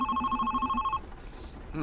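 Phone ringing in the video game The Red Strings Club: a rapid trilling electronic ring repeating for about a second, then a pause over soft ambient background, with a new tone starting near the end.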